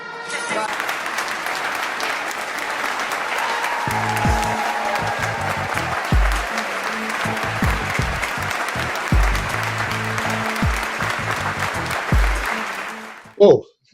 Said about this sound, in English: They were clapping to that.